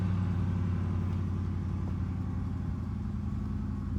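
A 1990 Mazda Miata engine with a loud aftermarket exhaust rumbles at a steady, deep, loud idle with a throaty exhaust drone, continuous and close, with no talking.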